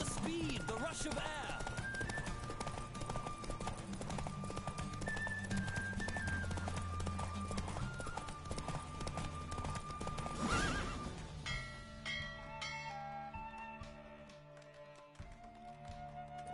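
A horse in The Witcher 3 gallops with steady clip-clop hoofbeats and lets out loud whinnies, over a bed of game music and voices during a race.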